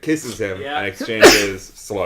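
A single quick sneeze bursts out in the middle of casual conversation, with voices talking around it.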